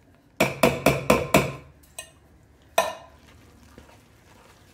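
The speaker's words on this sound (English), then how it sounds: "And just mix everything really well." Spoon stirring cornbread batter with drained canned corn in a bowl, a rapid run of five sharp scraping knocks followed by two isolated taps, close and fairly loud, with no talking.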